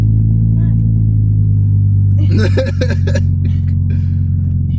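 A manual Nissan 350Z engine rumbles low and steady, then rises in revs as the car pulls away from a stop, with people talking over the engine noise inside the car.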